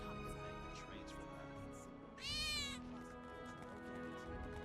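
A cat meows once in Final Fantasy 7 Remake, a short rising-and-falling call at moderate volume over steady game music and ambience.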